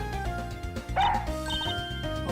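A dog barks and yips in the video game Ace Attorney Investigations, a few short excited calls over steady background game music.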